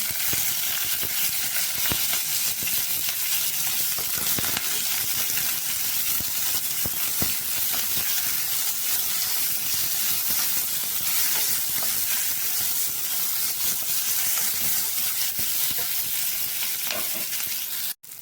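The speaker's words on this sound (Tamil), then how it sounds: "வெங்காயம் பாதி நல்லா வதங்கிடுது" Onions fry in oil with curry leaves and coriander, a steady, loud sizzle and crackle that runs unbroken, with no talking, then cuts off abruptly at the end.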